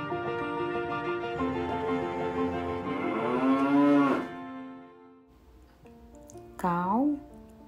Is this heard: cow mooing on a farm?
yes